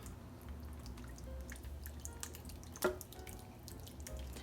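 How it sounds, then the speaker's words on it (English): Green enchilada sauce poured over a cream cheese enchilada casserole, a soft wet trickle with scattered drips and one sharper splash near the middle, quiet and close. "we're going to take the rest of our sauce, pour over the top"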